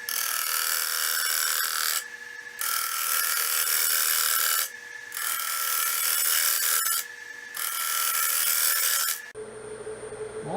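Steady broadband scraping of a tool truing the edge of a turned elm bowl, running in four long passes separated by brief pauses, close and loud, ending with a quieter low hum.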